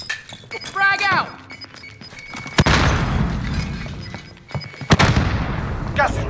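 Frag grenade blast in Call of Duty Warzone: a sharp, heavy explosion with a long noisy tail, then a second loud burst, with voices talking before and around it.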